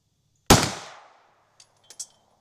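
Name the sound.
pistol firing light primer strike rounds at close range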